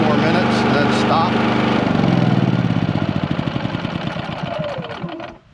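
An Onan P4500i portable generator running out of fuel sputters and stumbles, its steady engine drone breaking into an uneven pulsing chug that slows and fades as it dies.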